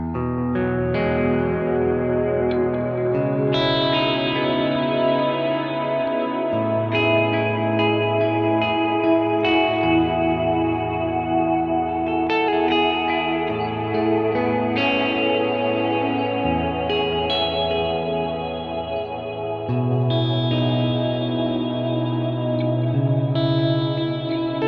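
Electric guitar played through a Kemper amp with ambient reverb and tremolo, sustained chords and notes washing into long echoing tails, steady and close with no talking.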